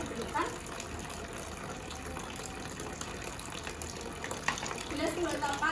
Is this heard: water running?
yes